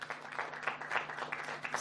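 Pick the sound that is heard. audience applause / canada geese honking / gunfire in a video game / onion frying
audience applause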